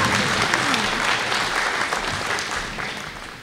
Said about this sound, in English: Maybe we can give her a round of applause.